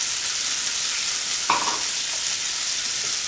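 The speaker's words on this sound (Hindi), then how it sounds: "थोड़ी देर इसको हम चलाकर पकाएंगे।" Capsicum and carrots stir-fry in a hot pan for road-style chowmein, giving a steady bright sizzle with a single short scraping stir partway through, close and with no talk.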